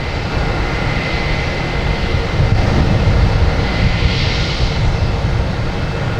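A Spirit Airlines airliner arriving from Nashville at Boston Logan, its jet engines producing a loud, steady broadband roar that swells a little toward the middle and stays close throughout.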